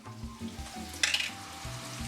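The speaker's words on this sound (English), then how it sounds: "let me saute these bad dudes off" Meat sautés in a pan for Salisbury steak, giving a soft, steady sizzle with a brief brighter crackle in the middle, quiet and close.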